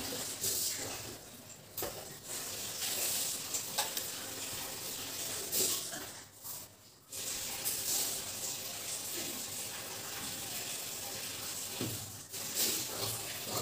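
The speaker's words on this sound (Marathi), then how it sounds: "आता आपण हे कट करून घेणार आहोत." Fabric for a cross-cut blouse is cut with scissors: a quiet, steady run of crisp snipping and rustling with a few brief pauses, and no talking.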